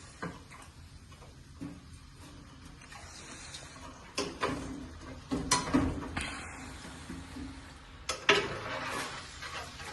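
A spoon stirring tuna fish curry in a pan, producing faint scrapes and light clinks that grow into sharper knocks against the metal toward the end, close and intermittent.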